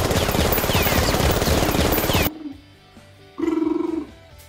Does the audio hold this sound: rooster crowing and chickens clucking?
no